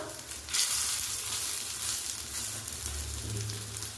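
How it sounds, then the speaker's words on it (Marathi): Soybean kebabs sizzle gently in a pan over a low gas flame, a continuous soft frying hiss with faint crackles, close and steady throughout with no voices. "बारीक गॅसवर मी हे सगळे कबाब ठेवून घेते आणि परतून घेते"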